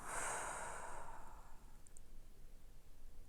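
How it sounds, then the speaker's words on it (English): A deep breath is exhaled in a soft, close, breathy rush that fades after about a second and a half, leaving a quiet room with no talk. "go ahead and take a deep breath for me"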